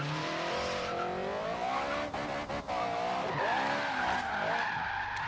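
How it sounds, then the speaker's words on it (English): A rear-wheel-drive Acura Integra drifting in Forza Horizon 3: a loud wavering tire squeal over a revving engine held in second gear, pitch sliding up and down as the car slides, with brief dips. "when we're sliding second gear, we can still spin those back tires around"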